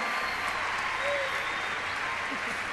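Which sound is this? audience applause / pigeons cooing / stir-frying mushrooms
audience applause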